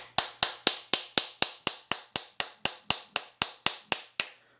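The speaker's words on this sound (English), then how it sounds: "I'm going to try to tap it out with a dowel and a rawhide mallet" A dowel driven by a rawhide mallet taps a stuck valve out of a herald trumpet: about eighteen sharp, evenly spaced knocks in a steady rhythm, close and loud with no talking.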